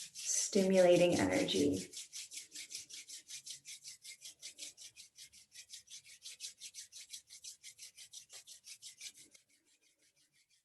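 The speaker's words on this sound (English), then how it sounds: "let's bring the palms together and rub them together" Palms rub briskly together in a fast, even back-and-forth rhythm. The soft, close swishing runs for several seconds after a short spoken phrase, then stops.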